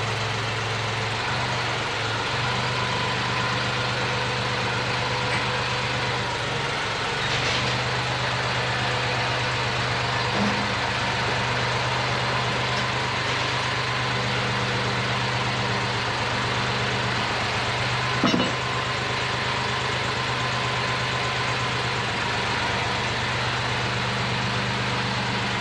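Tractor engine idling on a property while pallet forks are fitted, a steady loud low rumble holding constant throughout with no change in pitch and only a faint knock near the end.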